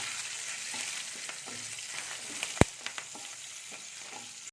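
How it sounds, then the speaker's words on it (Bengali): Bay leaves, green chillies and cumin fry in hot oil with a soft, even sizzle, broken by scattered crackles and one sharp pop. "আর একটু জিরে দিয়ে দিচ্ছি আধা চামচের মতো এটাকে একটু আমি ভেজে নেবো"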